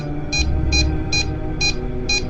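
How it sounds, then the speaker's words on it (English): A ghost meter emits five evenly spaced, high electronic beeps over a steady low background hum, close and distinct. "make that ghost meter stop beeping if you can"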